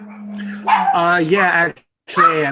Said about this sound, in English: I apologize for my dogs.